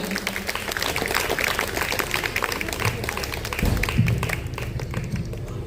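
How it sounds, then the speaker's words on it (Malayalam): Audience members at a school reunion function in Tirur clap for a retired headmaster, a steady patter of applause that stays moderately loud throughout and thins slightly toward the end. "നിറഞ്ഞൊരു കൈയടി കൊടുക്കുക"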